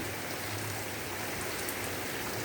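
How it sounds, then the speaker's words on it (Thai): Heavy rain pours down in a dense, continuous hiss of drops striking surfaces during a flash-flood downpour, steady and even throughout. "แล้วก็มีฟ้าฝนตกลงมา"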